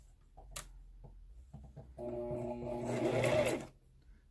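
Sewing machine back stitching a fabric face mask: a few soft clicks and handling taps, then one steady, close motor run of under two seconds that swells and stops.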